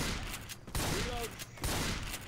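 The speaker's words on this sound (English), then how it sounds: "You are shooting me!" Rapid, choppy gunfire bursts from the modded video game Left 4 Dead 2 rattle on in quick volleys, with a voice faintly heard beneath the shooting.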